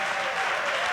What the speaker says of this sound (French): Est-ce qu'on peut rendre au Seigneur des actions de grâce par des acclamations